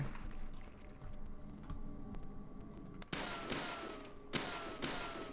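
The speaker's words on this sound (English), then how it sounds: "That sound, the bullets hitting" Bullet impacts in Deadly Premonition land as a few sharp, bright cracks with ringing tails, spaced over a quiet, murky game ambience.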